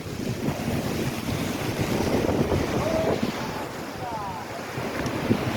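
Rough, continuous roar of surf and wind as the sea at Daman surges at full-moon high tide, waves churning close by with gusty microphone rumble throughout.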